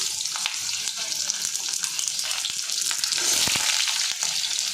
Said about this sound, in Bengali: তো প্রথমে আলুটাই ভেজে নিই।